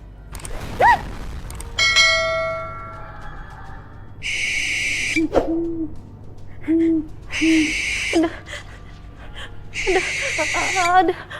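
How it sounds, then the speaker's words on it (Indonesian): A bird hoots softly a few times, mixed with bright, ringing tones and bursts of voices. "Ada suara burung."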